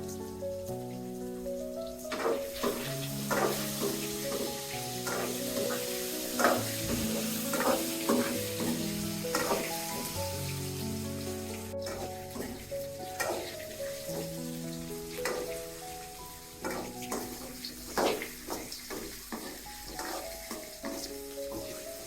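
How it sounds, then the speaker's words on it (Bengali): Potatoes frying in a pan with salt and turmeric, a continuous close sizzle broken by repeated scraping and clinking stirs of a utensil against the pan. "লবণ হলুদ দিয়ে আমি আলুগুলা ভেজে নিচ্ছি।"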